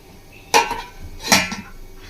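Two sharp metallic clanks a second apart as a lid is set onto a pot of mutton curry, close and fairly loud, with a short ringing tail after each.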